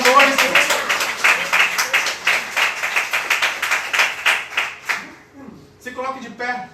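A church congregation claps in a strong, regular beat, loud and close, for about five seconds before the clapping stops and a voice speaks.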